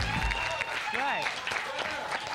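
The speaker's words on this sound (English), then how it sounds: "I train this audience when and where to applaud" A studio audience applauds at a high school quiz bowl show, a soft wash of clapping heard faintly beneath a voice that talks over it.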